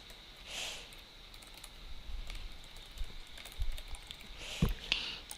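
Typing an e-mail address on a computer keyboard, soft scattered key taps and clicks at close range in a quiet room, with a few slightly louder presses near the end.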